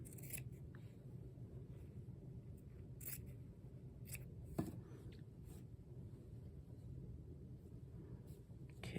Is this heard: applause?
no